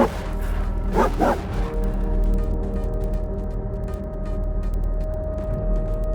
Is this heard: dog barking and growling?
yes